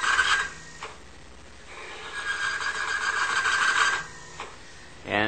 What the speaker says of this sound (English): You can hear a tremendous amount of noise, and we actually lock up the motor.